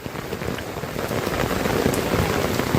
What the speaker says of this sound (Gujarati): વરસાદ પડે કે જવું તો પડે ને તને